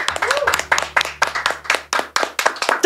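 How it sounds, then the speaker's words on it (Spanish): Studio audience applause for comedian Juan Pablo López as a comedy show episode closes, a steady run of loud, close hand claps in dense bursts with no talking over it. "fuerte el aplauso para Juan Pablo López"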